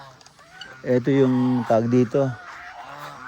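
Geese honking loudly and close at a farm pen, a few long nasal calls in quick succession with a person talking briefly between them.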